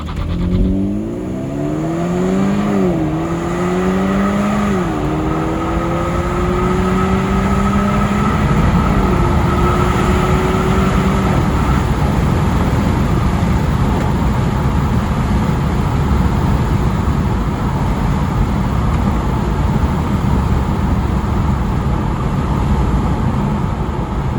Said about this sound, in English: To launch it, you actually have to put it in Sport Plus, then put the gearbox in Sport, brake all the way down, and accelerator all the way.